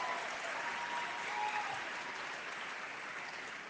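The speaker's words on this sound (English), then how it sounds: "Give Mona a big round of applause." A crowd at a Liberal caucus holiday party applauds Mona Fortier with steady, even clapping that stays constant throughout and sounds somewhat distant.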